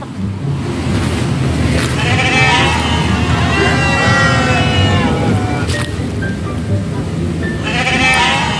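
A goat eating bleats several times in a row, the wavering cries loud and close over a constant rushing background noise.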